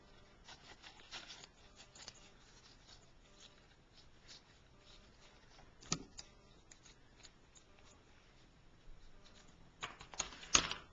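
Small scissors snip around the edge of a tile for a cameo jewelry craft, giving quiet, close, irregular clicks and crisp cuts against a near-silent background.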